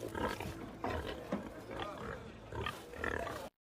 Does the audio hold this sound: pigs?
yes